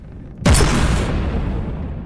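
Frigate broadside cannons firing in From the Depths: a sudden loud boom hits about halfway in, then a long rumbling decay fills the rest of the clip over steady background noise.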